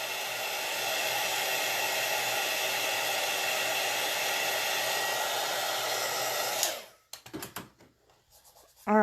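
A hair dryer blows steadily on freshly applied chalk paint on a board, a loud continuous whir for about seven seconds before it cuts off, followed by a few brief handling knocks.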